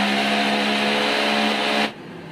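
An electric grinder whirs loudly and steadily as it blends onion into a spice paste, then the motor cuts off abruptly near the end, leaving a low residual hum.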